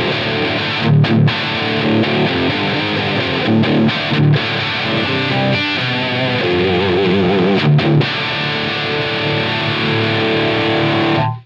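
Heavily distorted electric guitar through a Line 6 Helix amp model plays chunky chords and short riffs, loud and sustained, ringing out then cutting off at the end.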